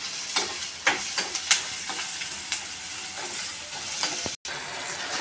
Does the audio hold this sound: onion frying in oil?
yes